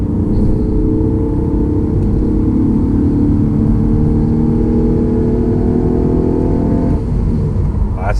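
Ford Mondeo ST220 petrol engine pulls steadily in third gear, a loud, rising drone with climbing harmonics that lasts about seven seconds before easing off, heard from inside the car.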